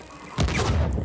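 A grenade explodes in the video game Uncharted 4, a sudden loud boom that breaks a quiet moment and rumbles on with a deep, sustained roar.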